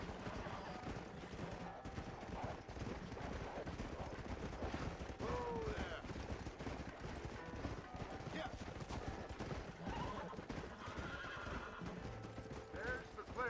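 Horses neigh and whinny over steady galloping hoofbeats, with distant gunfire-like bursts in a busy Red Dead Redemption game soundscape.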